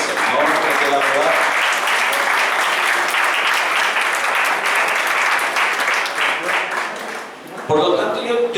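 Church congregation applauding during a sermon, a full, loud burst of clapping with cheers and voices mixed in that lasts several seconds before fading as a voice resumes.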